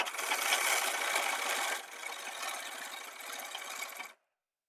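A sewing machine runs stitching an armhole seam on garment fabric, a fast close rattling whir that eases slightly midway and then stops abruptly.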